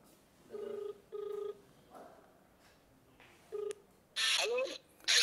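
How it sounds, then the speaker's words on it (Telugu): Telephone ringback tone during a sting call about fake currency notes: short repeated electronic beeps in bursts while the call connects, followed by a brief louder burst near the end, no speech over it. "రింగ్ అవుతుంది."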